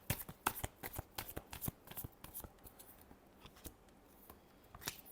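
Tarot cards are shuffled by hand in quick, crisp riffling bursts, a brisk run of close, soft slaps and flicks that thins toward the end with no speech over it.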